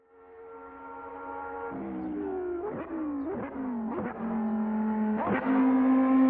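A 2015 Audi R18 Hybrid race car at Mugello circuit, engine note rising steadily then dropping sharply on several quick gear changes, loud and close, with no talking.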